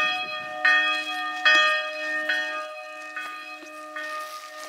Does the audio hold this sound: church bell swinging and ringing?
yes